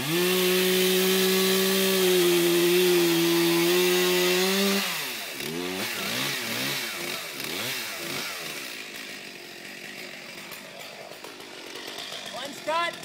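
A chainsaw bores a plunge cut into a standing tree during felling. The engine drones loud and steady at first, then wavers and bogs as the bar sinks into the wood, and later drops to a lower idle.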